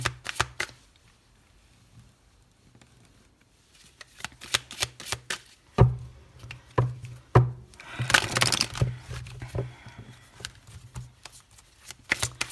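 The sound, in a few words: shuffling and cutting a tarot card deck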